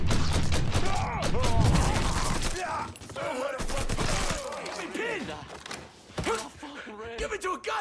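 Gunfire in the Mafia 3 video game, a loud rapid volley at the start that gives way to scattered shots and impacts under shouting voices.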